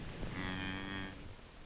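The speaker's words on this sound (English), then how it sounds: "I was out there with Eddie at the crack of dawn, chasing cows or whatever else needed doing." Cattle on a 1950s American farm give a single drawn-out moo lasting about a second, fairly close and clear, with no voices.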